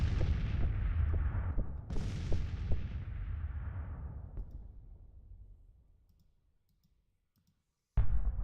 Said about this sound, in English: Goddamn coffee mill gun.